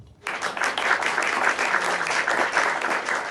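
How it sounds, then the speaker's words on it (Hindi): An audience at a poetry open mic bursts into applause after a brief quiet moment, a dense, steady clapping that holds for about three seconds with no speech over it. "तालियां।"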